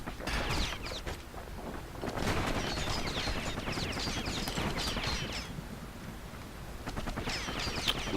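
Repeated gunfire bursts in the action game Bastion, a dense, continuous volley of shots running through the whole stretch over busy game sound, with no talking.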